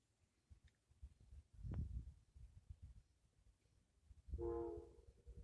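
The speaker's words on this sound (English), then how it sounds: "There's the train." A faint, distant train horn sounds one sustained blast near the end, preceded by low rumbling and a brief earlier tone, all quiet and far off.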